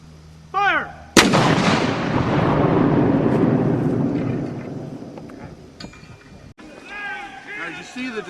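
A Civil War cannon fires during a demonstration with a single thunderous boom that rolls and decays over several seconds, preceded by a shouted command and followed by murmuring spectators nearby.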